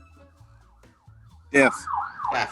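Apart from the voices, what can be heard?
sirens from a nearby fire station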